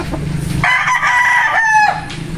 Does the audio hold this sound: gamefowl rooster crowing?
yes